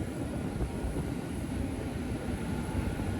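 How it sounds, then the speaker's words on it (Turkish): Aircraft engines cold starting: a steady, rumbling engine roar fills the air, a broad continuous drone with a faint high whine on top, unbroken throughout. "Uçağa cold star yapıyorlar şu anda. Sesi duyuyorsunuz motorlardan."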